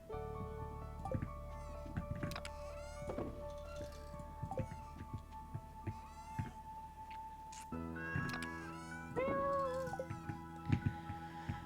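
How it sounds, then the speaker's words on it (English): A pet cat in the Stardew Valley farming game gives several short, high meows spaced across the span, quiet over soft game music with light ticking effects, and no talking. "Aw, you're a good kitty cat."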